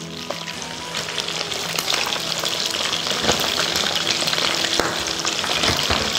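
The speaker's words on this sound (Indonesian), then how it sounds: "Ini kita goreng hanya sampai kecoklatan aja, karena kan ini ayamnya udah pasti udah mateng ya" Pieces of chicken fry in hot oil in a pan until browned, a loud, continuous sizzle and crackle with occasional stirring sounds, close up and with no talking.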